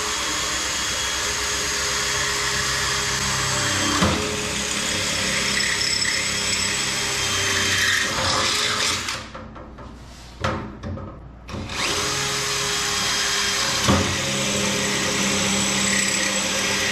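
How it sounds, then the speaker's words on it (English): A power drill bores steadily through a beach cart frame, whining loudly and continuously. It cuts out briefly near the middle and then resumes, with no talk over it. "all you're going to do is take that and drill all the way through your frame"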